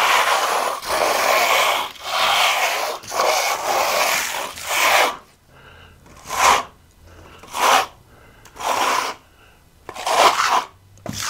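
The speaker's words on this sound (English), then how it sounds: "I'm keeping the trowel flat, kind of like snowboarding. keep it flat. This is all called burning the wall." A steel trowel held flat burns smooth stucco on a wall, making rhythmic rasping scrapes, first in long continuous strokes, then in shorter separate swipes with brief pauses between them, close and fairly loud.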